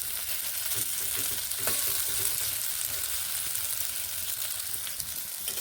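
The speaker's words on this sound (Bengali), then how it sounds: "খুব ভালোভাবে কুমড়োগুলোকে ভেজে নিচ্ছি কুমড়োগুলো বেশ নরম হয়ে এসেছে" Pumpkin pieces fry in a pan, giving a steady, close sizzle with light scraping from stirring throughout and no talking.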